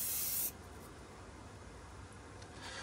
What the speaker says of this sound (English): it was just a quick spray up and down with the primer.